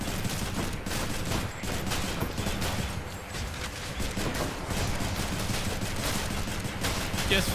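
Weapons fire over and over in the action game Hades: dense rapid bursts of shots and impacts pile up into a loud, unbroken barrage with no gaps.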